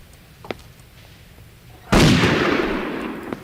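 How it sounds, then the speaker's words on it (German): Gunfire in the video game Übersoldier 2: a faint crack early on, then a loud burst of shots with a long rumbling tail lasting over a second, plus a small pop near the end. "Zweimal in die Schnauze geschossen."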